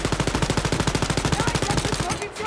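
Rapid automatic gunfire from a first-person shooter, Wolfenstein: Youngblood, as players shoot at Nazis, a steady loud burst of shots for over two seconds before cutting off, with game voices faintly mixed in.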